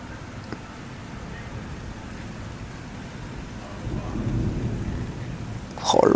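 Steady rain hisses throughout a severe thunderstorm in Bordeaux while low thunder rumbles build toward the end, with a brief sharper crack near the close.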